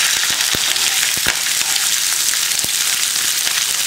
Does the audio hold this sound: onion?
yes